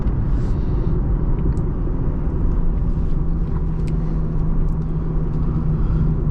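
2012 Lexus IS350 F-Sport heard from inside the cabin, a loud, constant low engine rumble and road roar holding steady for several seconds with a faint tonal hum, no talk over it.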